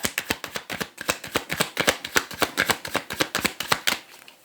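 Riffle shuffling of a new deck of Lenormand cards, a rapid run of crisp, close flutters and snaps repeating in quick bursts, loud and alone.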